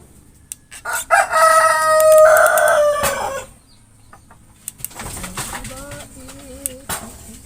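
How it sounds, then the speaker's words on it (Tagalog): A rooster crows loudly nearby, then chickens cluck and squawk, with a second fainter crow toward the end. "medyo maingay po yung mga manok po namin dito"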